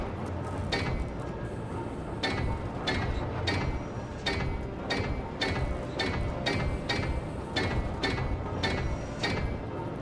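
A welder tool assembling blocks in the Space Engineers video game makes repeated sharp metallic clicks and ratcheting ticks at an irregular rhythm over a steady low mechanical hum, fairly faint and without speech.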